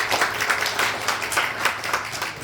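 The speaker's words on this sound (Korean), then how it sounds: "박수로 환영하겠습니다." Modest congregation at a church service claps steadily for a few seconds to welcome a new middle schooler, a light, even patter of hands at moderate distance.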